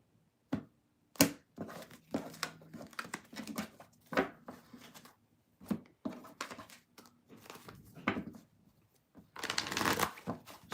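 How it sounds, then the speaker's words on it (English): Tarot cards being shuffled by hand in repeated bursts of riffling and sliding, crisp papery flicks and slaps with short pauses between, ending in a longer dense riffle. "Shuffle, shuffle, shuffle."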